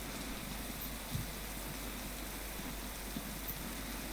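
Steady rain falls in an even, soft hiss with only the odd faint drip standing out, and no voices are heard.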